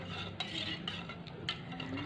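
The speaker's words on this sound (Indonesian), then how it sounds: "Lalu kita aduk ya. Ini saya aduk" Dough with yeast and a pinch of salt being stirred in a bowl for Greek-style lukumades doughnuts, a steady scraping churn with a few sharper clinks of the utensil against the bowl, close and continuous with no talk.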